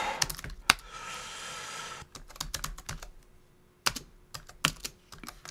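Keys clatter on a computer keyboard in quick uneven bursts, with a longer run of rapid strokes near the start and scattered single taps after, close and fairly quiet with no talking.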